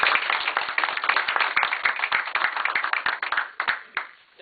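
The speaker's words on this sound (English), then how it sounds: "And you can clap for yourselves now." A crowd at a Tea Party Patriots meeting in Southington, Connecticut claps in sharp, close individual hand claps that build into scattered applause, then thin out and fade near the end.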